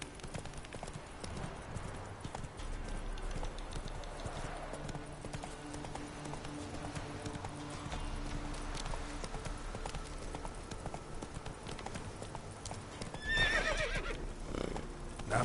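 Roach, a horse in The Witcher 3, gallops with rapid rhythmic hoofbeats throughout and gives a loud whinny near the end, all set against game music.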